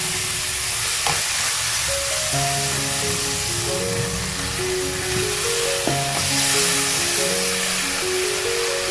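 Cumin seeds fry in hot oil in a pan while being stirred, giving a steady, close sizzle that runs the whole time, with a simple melody playing over it.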